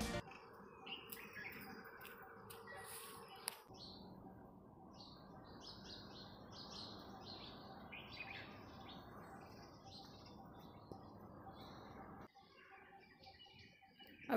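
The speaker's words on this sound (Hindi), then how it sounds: "सुबह सुबह पक्षियों की आवाज़ सुनो।" Birds chirp and call in the early morning outdoors, a steady scatter of bright tweets over low background rumble, fairly faint and continuous throughout with no talking.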